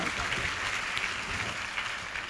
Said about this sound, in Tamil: கர்த்தருக்கு ஒரு கைத்தட்டு கொடுங்க பார்க்கலாம்.